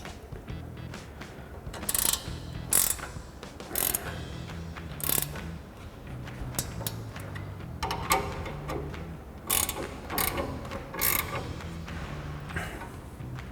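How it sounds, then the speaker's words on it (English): Repeated bursts of clicking from an 18mm ratchet wrench tightening new sway bar end links on a Toyota Tacoma, loud and close with short pauses between strokes, no talking. "Now we can tighten our new end links down using our 18mm ratchet wrench."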